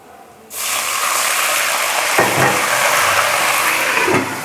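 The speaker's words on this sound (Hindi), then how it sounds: "अब मैं इसमें ज़रा सा पानी ऐड करूँगी" Water is poured into a pan of browned garlic for Pakistani dhaba-style masoor dal, giving a sudden loud rushing hiss that starts abruptly and holds steady.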